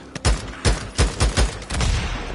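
A video game grenade goes off as a burst of five or six sharp, close blasts in quick succession, trailing into a rumbling roar.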